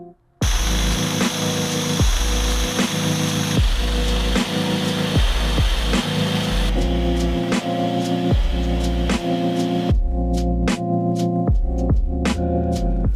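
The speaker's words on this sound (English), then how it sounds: "we are currently in the process of sanding back all of this lovely surface corrosion to bare metal" Loud, rhythmic back-and-forth scraping as surface corrosion is sanded to bare metal on an old Porsche 944 body, repeated strokes roughly every half second, close and continuous with no voices.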